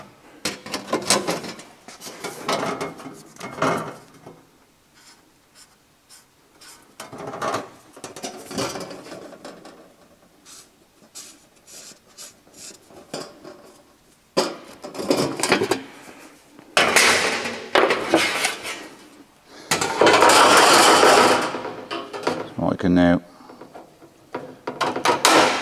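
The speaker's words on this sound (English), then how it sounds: "Trim that little triangle out, and the same with this one." A sheet metal front apron is trimmed at the flange, cutting out small triangles in irregular bursts of crunching, clicking metal cuts and clatter, some loud and close, with quiet gaps between them.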